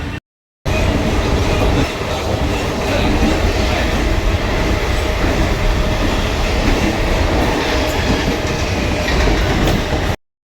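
Loud, continuous rumble and rattle of a moving train bound for Goregaon heard from inside a carriage, wheels clattering steadily for several seconds.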